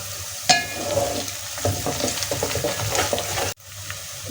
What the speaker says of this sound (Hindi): अब हम इसको अच्छी तरह प्याज के साथ फ्राई कर लेंगे।